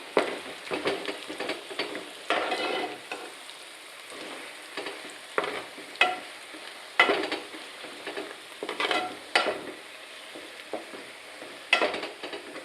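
Potato curry being stirred in a pan over heat, a spoon scraping in repeated bursts over a steady background sizzle, close and fairly loud, with no talking.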